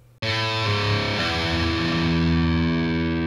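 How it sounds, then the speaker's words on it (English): Heavily distorted electric guitar plays a short walk down on the fifth string, a loud abrupt chord followed by a few descending notes that end on a sustained, saturated low note ringing out. "right before you go to the next part, you hear this little walk down"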